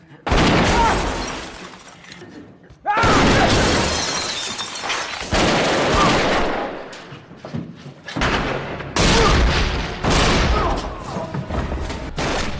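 Loud, dense bursts of gunfire, explosions and shattering debris from a film action scene where a man bombards a gang's hideout, coming in several heavy waves with brief lulls between them.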